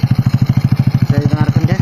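A Honda Revo Absolute motorcycle engine idles up close after an engine valve repair, a fast, even, loud pulsing chug with a faint carburetor hiss, steady through the whole short stretch.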